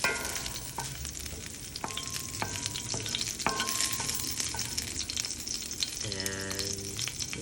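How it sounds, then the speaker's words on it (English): Curry leaves and jalapenos sizzle in hot ghee with a constant crackling hiss while a utensil stirs and taps against the pan, with a few ringing metallic clinks. "keep stirring to make sure that all of the ghee is getting seasoned well. And you can add the curry leaves"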